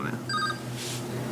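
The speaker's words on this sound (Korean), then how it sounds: "이건 또 마누라 전화가 오네." A phone rings with an incoming call from the speaker's wife, a short electronic ringtone of steady repeated tones heard close by over a low background hum, with no talk over it.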